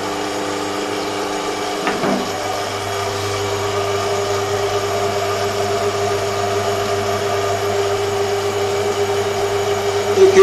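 Water-turbine-driven 3 kW single-phase alternator running at about 50 Hz, a steady hum with a low tonal drone and mechanical whir, preceded by a brief click near the start, continuous and fairly loud throughout.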